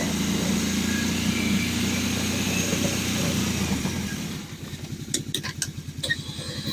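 A Kubota compact tractor snow blowing on a pond rink, its engine running as a steady loud drone that drops off partway through, leaving a choppy, rumbling idle with some high clicks near the end.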